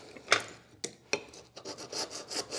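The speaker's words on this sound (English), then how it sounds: "we take this and we take the rasp" A coarse rasp is drawn across a 3D printed plastic part in a few quick scraping strokes, close and crisp, followed by a run of lighter rubbing passes.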